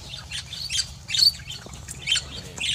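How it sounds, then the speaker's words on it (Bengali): Pet birds in a home aviary colony squawking and chirping in sharp repeated bursts, several calls overlapping close by over a low background hum. "এই হচ্ছে ভিউয়ার্স আমার পাখিগুলো।"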